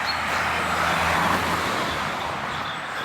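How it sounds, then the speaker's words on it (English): Cars pass on a nearby road beside an open field, a continuous wash of traffic noise at moderate distance that swells and then fades slightly. "You hear more cars."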